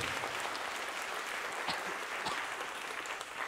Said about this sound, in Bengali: জোরে একবার প্রভুর জন্য করতালি দিই।